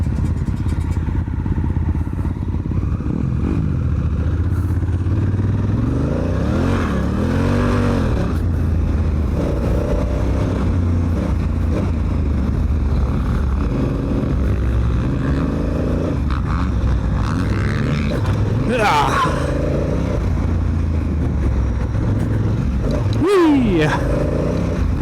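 Honda Africa Twin motorcycle ridden on a motocross track, its loud engine droning and revving steadily throughout with rising and falling throttle surges, close and continuous, with a voice briefly heard over it.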